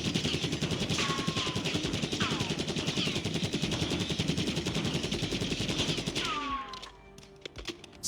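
Krig C assault rifle with a compensator and recoil springs fires continuously in the video game Warzone, a dense, rapid stream of punchy automatic shots with layered echoes and faint shell clinks, ending abruptly.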